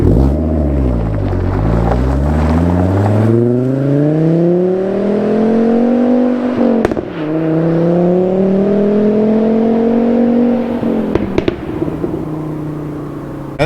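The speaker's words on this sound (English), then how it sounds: "You don't get a more interesting sound than an inline 5-cylinder." A Volvo V70R's inline five-cylinder engine revs loudly and continuously, its pitch sweeping up and down through several long pulls, with a brief sharp crackle partway through.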